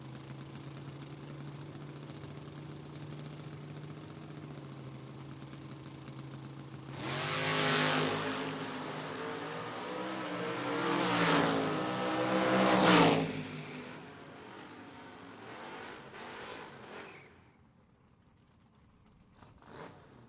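A 1968 Camaro and a 2014 COPO Camaro drag racing on a footbrake drag strip, idling in the lanes, then launching with loud roaring acceleration that surges and fades into the distance, no voices.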